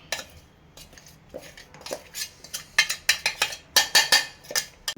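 Spoon mixing fenugreek powder with garlic and salt in a metal dish for a bitter gourd pickle, with a run of close clinks and scrapes that grow denser and louder toward the end.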